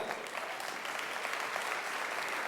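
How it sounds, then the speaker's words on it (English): An audience at a school awards ceremony claps as an education official comes up to hand out prizes, a steady, fairly distant wash of applause throughout. "A round of applause for him, tafadhali."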